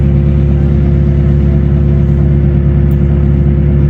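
A steady, loud excavator diesel engine idles alone after start-up at a demolition site, its low rumble constant and unbroken throughout.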